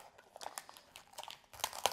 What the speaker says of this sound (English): I prefer to remove the peel ply when the part is still onto the mold or the plate